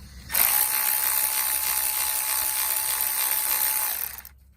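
A Milwaukee power tool runs in one steady whirring burst of about four seconds, spinning out tiny bolts on a Honda VTC strainer, close and loud, starting abruptly and winding down at the end.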